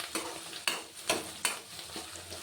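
Finely chopped onions fry in oil in a pan for quick chitranna rice, stirred with a spoon. A soft, constant sizzle sits under several regular scraping stir strokes, close and moderately loud.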